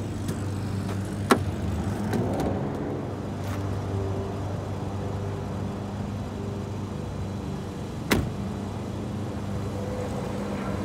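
Steady low hum of a Tesla Model S electric car pulling away and cruising on a road near Bodega, with a constant drone of road and cabin noise and a couple of brief clicks.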